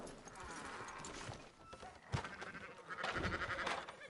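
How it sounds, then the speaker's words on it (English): Sheep bleat in Red Dead Redemption 2, quiet wavering cries heard alongside horse hooves clip-clopping and other game sounds, with a louder bleating stretch toward the end. "Fine sheep."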